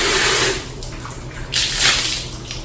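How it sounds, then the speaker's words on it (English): A calf feeding pail being rinsed with warm water: running water splashes and gushes close by, with a continuous stream and two stronger surges, and no voices. "step 1 is to rinse with warm water"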